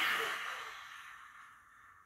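A long, deep exhale through an open mouth with the tongue stuck out, as in a yoga breathing exercise; close and breathy, starting strong and slowly fading over about two seconds.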